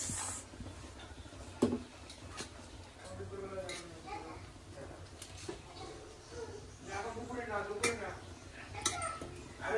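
Onion and garlic being mixed in a pan, heard as soft clinks and scrapes of a utensil against cookware, with someone speaking over most of it.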